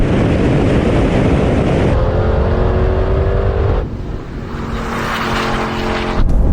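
A Porsche 718 Cayman and an Audi TTS launch hard in a drag race, engines roaring loud and close with rising, shifting gear tones, a brief dip as a gear change comes, then the revs build again.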